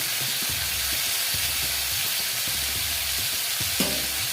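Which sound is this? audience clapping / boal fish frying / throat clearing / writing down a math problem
boal fish frying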